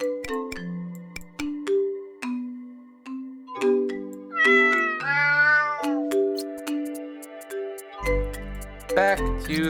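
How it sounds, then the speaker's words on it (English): A series of short cat meows from a web game, some stretched and warbling, interspersed with bright clicking and chime-like tones, close and clear. "If you click him, he makes cat noises."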